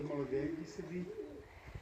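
Pigeons coo inside a dovecote with soft, low warbling calls, fairly faint and partly under people talking nearby.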